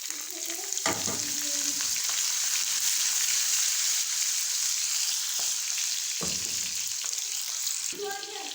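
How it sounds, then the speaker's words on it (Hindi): Steady loud sizzling of tempering spices frying in hot oil for mixed dal, a continuous bright crackle with a few clanks of a utensil stirring the pan. "और यहाँ पे हम लगाएंगे तड़का।"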